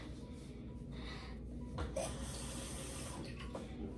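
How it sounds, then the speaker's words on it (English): Tap water runs into a small bowl, a soft steady splashing stream heard close but faint, with a few small handling sounds and no speech. "So I'm gonna fill up the bowl with some water."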